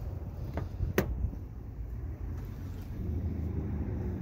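A Cadillac Eldorado's engine running at a steady idle, heard as a low, even rumble with some wind noise and a couple of faint clicks on top.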